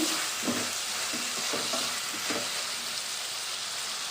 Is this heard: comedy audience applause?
no